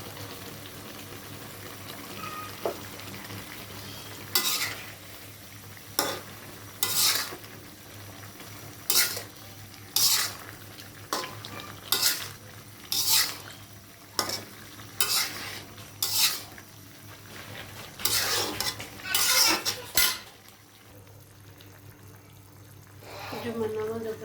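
Cauliflower curry with koi fish being stirred and fried in a pan, a steady sizzle punctuated by repeated sharp scrapes and clinks of a utensil against the pot, close and fairly loud.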